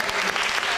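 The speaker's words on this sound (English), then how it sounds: "we should give them a round of applause anyway" A conference audience claps in a brief, dense burst of applause. The sound is continuous and fairly loud, filling under a second.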